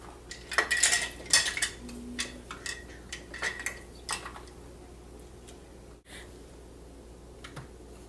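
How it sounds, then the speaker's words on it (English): A spoon clinks and scrapes in a dish while brown sugar for cinnamon rolls is packed down, a handful of close, sharp metallic taps and scrapes clustered early, then quieter. "when you're taking the brown sugar, you pack it down"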